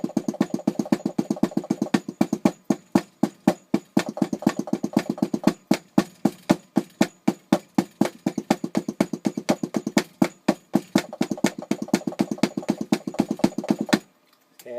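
A bass drum pedal is played with swivel technique, a rapid steady stream of close, punchy kick-drum beats at an even fast rhythm for about fourteen seconds before stopping abruptly.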